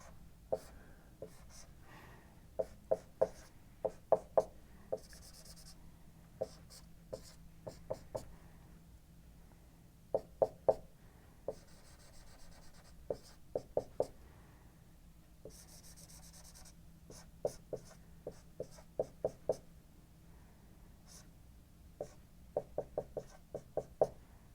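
Marker or chalk on a board sketching a chemical structure, sharp taps and short squeaky strokes in irregular bursts with pauses between, fairly close and alone without voices.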